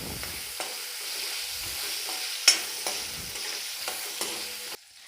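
Chili paste and cinnamon frying in a pan, giving a steady, soft sizzle with a few faint utensil taps, close and quiet, ending abruptly.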